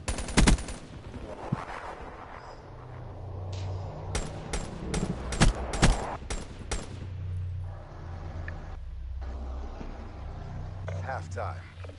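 Call of Duty Black Ops gunfire: sharp shots and rapid bursts of automatic fire crackle across the match, some close and loud, mixed with engine rumble and game sounds while someone talks over it.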